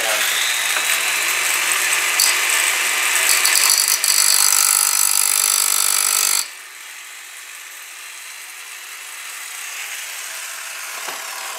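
Loud, harsh cutting noise on a bolt for a custom SCX10 link runs steadily for about six seconds, then cuts off abruptly, leaving a quieter, lingering hiss.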